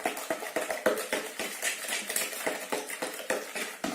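Salt and sugar are mixed into bun dough ingredients in a bowl, a close, rapid run of regular clinking strokes from a utensil against the bowl, several per second, without talk.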